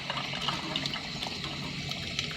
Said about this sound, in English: You will get a little discolored water at first, that is the filter rinsing itself out.